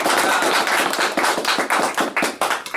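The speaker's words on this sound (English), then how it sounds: "We can have a round of applause for him in here." A small room claps for a player after a high school football championship game, a short burst of dense, loud, close hand claps that keeps going and thins slightly toward the end, with no talking.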